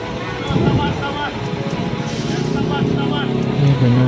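Intercity buses on the road toward Medan, a Kurnia coach followed by an Indah fleet bus, roar past with a steady, loud engine drone and road rumble that swells toward the end, a voice faintly present underneath.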